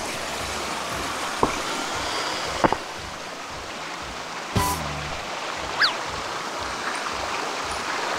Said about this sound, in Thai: ตรงนี้นะครับน้ำไหลแรงนะครับ